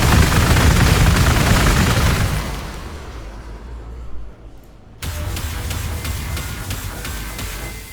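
Unit gunfire in the strategy video game Warhammer 40,000: Gladius, a dense roaring burst of shots that fades into a quieter rumble, then a second sharp volley that sustains steadily to the end, with no voices.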